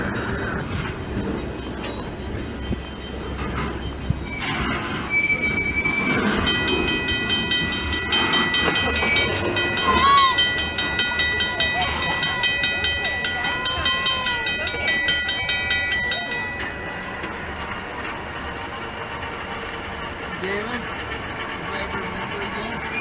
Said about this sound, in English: So the train pushed the stalled train and then came to a stop again